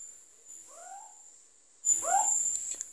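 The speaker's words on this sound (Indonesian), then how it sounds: "Untuk burung hantu ini hampir setiap malam berbunyi ya." Two soft, hooting owl calls, each a short pair of wavering notes, sound against a steady high insect drone; the second is louder and closer.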